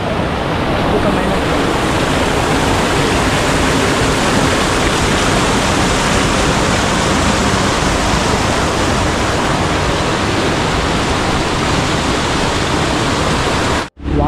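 Waterfall in Araku Valley pouring down in a steady, loud, dense rush of water, continuous and close for the whole stretch, ending abruptly at the very end.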